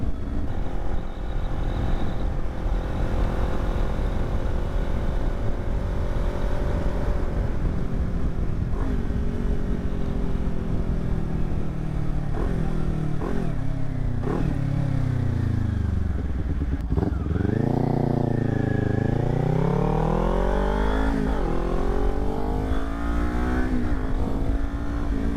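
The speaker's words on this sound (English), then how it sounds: "I can still hear the motorcycle, and I can hear cars honking" A Kawasaki Ninja 400 motorcycle rides on a road, its engine droning steadily up close, then rising and falling through several rev swells and gear changes, with wind noise throughout.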